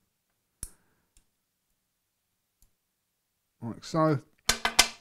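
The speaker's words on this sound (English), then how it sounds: "just take a pair of cutters and just cut it off on this side" Sharp clicks from cutters snipping through coil wire on a Crown dripping atomiser, one distinct snap followed by a couple of faint ticks, then brief talk close to the microphone.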